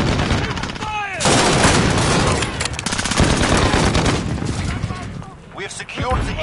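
Video game battle for a contested HQ: loud, near bursts of automatic gunfire and scattered shots over roughly six seconds, with shouted voices mixed in.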